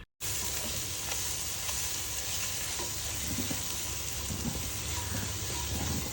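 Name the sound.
sautéing crushed green chili, garlic and ginger paste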